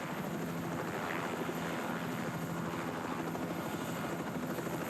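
A helicopter hovers over a road cycling stage race in Hungary, its rotor and engine giving a steady, loud, continuous drone with faint wind buffeting and no voices.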